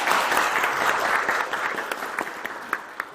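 A crowd applauds steadily to welcome a visiting election candidate at a Korean policy event on the energy industry, with dense clapping that gradually thins, leaving a few sharp individual claps near the end.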